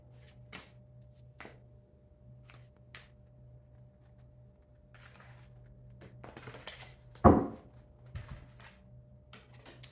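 Quiet, intermittent card shuffling with soft riffles and taps, one sharper burst near the end, in an otherwise still room.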